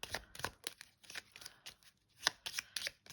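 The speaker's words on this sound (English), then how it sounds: "And so we shuffle some cards" Cards are shuffled in quick riffling bursts, a series of crisp flutters and snaps close to the microphone with short pauses between them.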